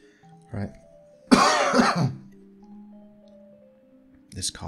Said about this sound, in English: This cough is so annoying.